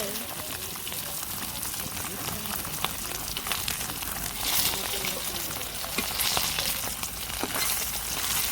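Fish fries in hot oil in a pan in a village kitchen, a continuous crackling sizzle at moderate level with scattered pops throughout.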